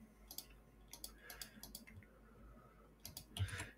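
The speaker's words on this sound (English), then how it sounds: "Click new row." Scattered mouse clicks while working in an Excel spreadsheet, quiet and close, in irregular single and double taps over a faint room background with no talk.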